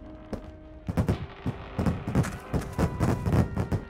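Repeated explosions and gunfire-like bursts in the fantasy adventure video game The Book of Unwritten Tales, a rapid irregular volley of sharp blasts growing denser over a few seconds, moderately loud with no speech.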